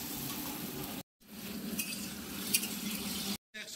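Pieces of eggplant tossed with a little turmeric fry in hot oil, giving a steady, close hiss with soft stirring clinks, cut off by two brief silent gaps.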